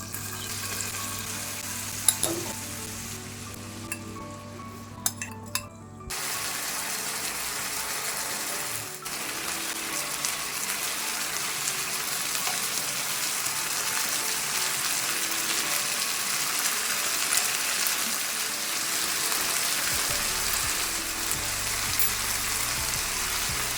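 Chicken pieces fry in butter in a pan, giving a steady, moderately faint sizzle with a few small clatters early on.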